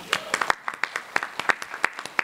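Small audience at a college event clapping, a sparse, uneven run of distinct individual claps heard close and fairly clear over a couple of seconds.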